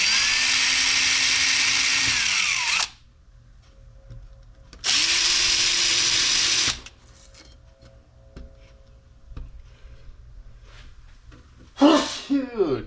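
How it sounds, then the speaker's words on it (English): Power drill pre-drilling holes in a wooden table top for a milling machine, two loud steady bursts of about three and two seconds each, separated by quiet, with a brief breathy sneeze-like sound near the end. "we'll pre-drill the holes."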